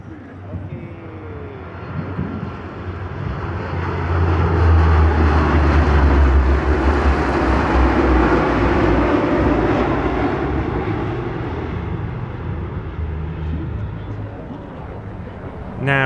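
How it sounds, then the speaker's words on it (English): A C-130H Hercules propeller aircraft roars past at an airshow, its deep rumble swelling to a loud peak and then slowly fading away. "C-130H Hercules."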